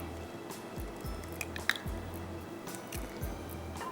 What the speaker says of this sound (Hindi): अंडे जा रहे हैं इसमें।